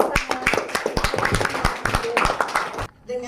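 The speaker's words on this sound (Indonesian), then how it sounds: "Oke, tepuk tangan." A group claps hands together at a gathering in Bandung, a dense run of sharp overlapping claps lasting about three seconds before stopping abruptly, with faint voices underneath.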